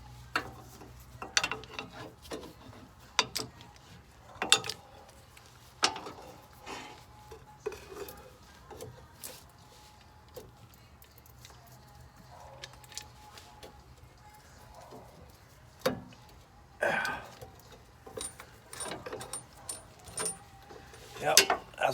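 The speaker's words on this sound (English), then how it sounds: "See if I can't move with this breaker bar." Breaker bar loosening a sway bar link on a 2007–2013 Chevy Silverado 1500, with scattered metallic clicks, clanks and ratcheting taps at close range under occasional quiet talk.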